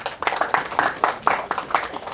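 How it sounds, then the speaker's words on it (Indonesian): An audience at a Halal Bihalal gathering in Indonesia claps for LIMIP in a brief, rhythmic round, about four even claps per second, moderately loud and close. "Tepuk tangan untuk LIMIP."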